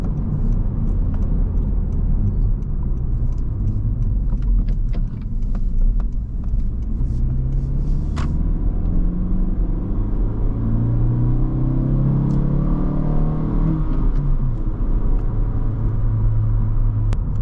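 An 11th-generation Honda Civic Hatchback tows a load along mostly flat roads, its engine giving a steady low rumble with road noise and a gentle rise in revs partway through, heard from inside the cabin without talk.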